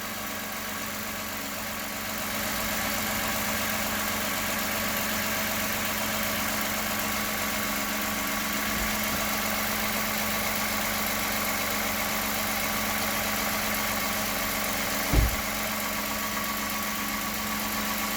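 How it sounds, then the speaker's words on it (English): A 2006–2017 Toyota Camry engine idles steadily at about 970 rpm, a constant close hum with faint vibration and one brief knock near the end. "We're just gonna let the engine run."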